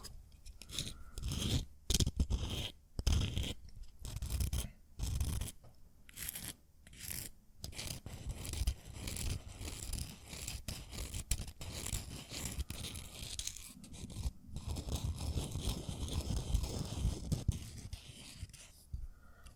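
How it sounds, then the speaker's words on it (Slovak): Fortune cookie cracked open in the middle and eaten, close crisp crunches and rustles followed by chewing and crackling bites heard up close in a quiet room. "Takto v strede urobíš taký krup."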